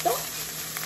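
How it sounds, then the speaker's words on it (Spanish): Taco meat browning in a hot pan, its juices cooked off, giving a brief close, steady crackling sizzle with faint stirring. "Ahora sí ya se está dorando la carne, ya se terminó el juguito."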